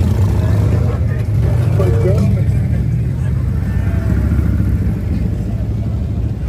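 Motorcycles roll into a crowded bike rally at Laconia Bike Week, giving a constant close engine rumble and drone that stays loud throughout.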